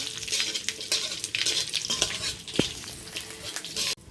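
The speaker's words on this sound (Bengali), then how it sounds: "দিয়ে দেবো পাঁচফোড়ন, দিয়ে একটু নাড়াচাড়া করবো, লাল লাল করে একটু ভেজে নেব" Panch phoron spices frying and being stirred in a pan over a village clay stove, a steady crackling sizzle with scraping stirs and a sharp clink of the spoon near the middle, close and alone.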